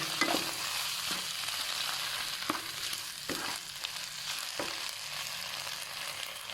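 Fried rice stir-frying in a pan with oyster sauce just added, a steady loud sizzle with periodic scraping strokes of the spatula every second or so, close up and without voices.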